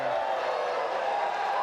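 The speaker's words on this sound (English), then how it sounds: "Crowd getting behind Ron Ponder right now." A crowd cheers and yells steadily at a collegiate pickleball national championship match, a loud, continuous wash of voices with no single standout shout.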